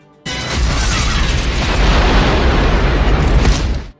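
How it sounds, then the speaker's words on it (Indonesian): A huge helicopter explosion erupts suddenly in a film and rumbles on as a dense, roaring blast for several seconds before cutting off. "lalu helikopter itu meledak."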